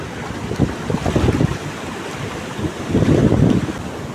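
Sea waves break on a village beach, two clear surges of rushing surf rising and falling a couple of seconds apart, with wind rumbling against the microphone and no speech.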